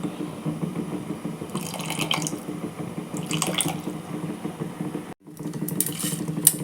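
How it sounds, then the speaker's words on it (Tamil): Tamarind water splashes and trickles steadily into a cooking pot for sambar, with a couple of brighter pouring bursts and a brief pause near the end. "புளி தண்ணி புளி கரைசல்"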